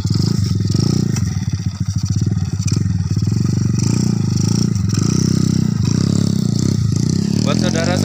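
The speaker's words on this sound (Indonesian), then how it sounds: "Motornya Jupiter Jet." A Yamaha Jupiter Jet motorcycle engine idles and runs loudly up close with a steady buzzing rattle, while people talk over it throughout.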